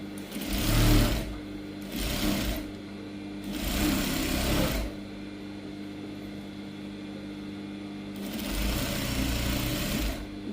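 Sewing machine stitching a gown, running in several separate bursts of rapid mechanical whirring, each a second or two long, with quiet pauses between them.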